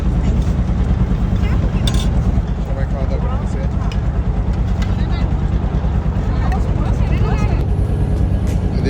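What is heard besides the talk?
boats running on the river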